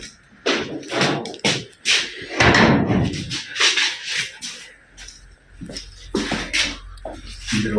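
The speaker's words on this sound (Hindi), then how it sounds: "दरवाजा हो गया जी बंद" A door is handled and shut with several thumps, scrapes and knocks spread across the passage, close and fairly loud, with no talking.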